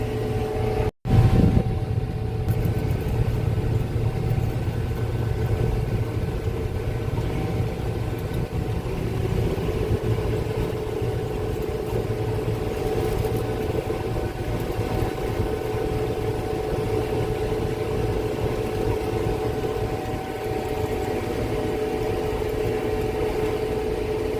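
A grain truck's engine runs at a steady low rumble at a farm harvest, a continuous drone that holds level after a brief knock at the start.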